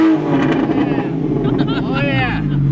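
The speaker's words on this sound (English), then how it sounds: "That is the best sounding Porsche I've heard." A Porsche engine revs hard among a crowd at a car gathering, rising and falling in loud bursts close by, with voices and cheering mixed in.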